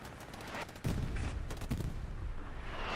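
Dense bursts of gunfire from the Hell Let Loose video game on a night Stalingrad map, with sharp volleys starting partway through and rapid repeated shots continuing loudly, a tank in the distance.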